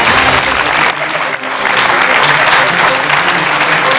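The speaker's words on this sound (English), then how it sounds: "Give her a round of applause." A studio audience on a 2003 RTE TV quiz show breaks into loud, steady applause, a dense wash of clapping that carries on for several seconds with only a brief dip.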